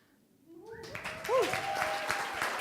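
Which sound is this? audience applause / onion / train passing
audience applause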